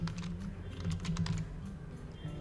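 Rapid keystrokes on a computer keyboard as a company name is typed into a WordPress form, a steady run of light clicks close by with a low background hum and no talking.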